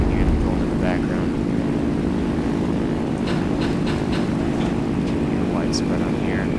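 A steady, loud drone of propeller aircraft engines in a video game fills the whole stretch, with faint scattered clicks and pops over the constant engine roar.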